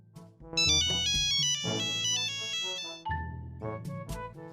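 A mobile phone plays a bright, melodic electronic ringtone while a call is being placed. The repeating tone pattern sounds loud and close, with no voices over it.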